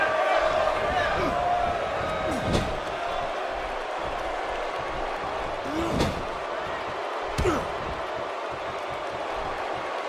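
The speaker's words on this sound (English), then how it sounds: "The crowd is buzzing." A wrestling arena crowd at a WWE-style event keeps up a steady, dense murmur throughout, with brief thumps of ring impacts rising above the buzz and commentators' voices laid over it.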